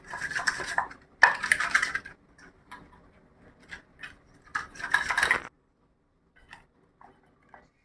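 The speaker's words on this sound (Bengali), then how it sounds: "এখন আমি লবণ হলুদ দিয়ে মাইখে নেব।" A fish head being rubbed and mixed with salt and turmeric by hand in a bowl: scattered wet scrapes and clinks in short bursts, then quieter taps, with no talking.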